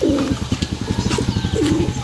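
A pigeon coos close by, a soft throaty rolling call at the start and again near the end, with faint rustling in between as the bird moves.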